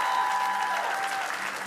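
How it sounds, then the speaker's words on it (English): Church congregation clapping during a Sunday morning service, a dense burst of applause from a room full of people that fades slightly toward the end. "And Floy Beth, could you just stand so they know who they're clapping for?"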